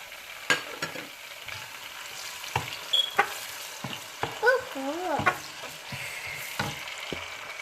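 Tomato going into a pan of frying cumin, cardamom and cinnamon for aloo matar pulao, giving a soft sizzle with scattered stirring scrapes and clinks, close and moderately quiet, with no talking.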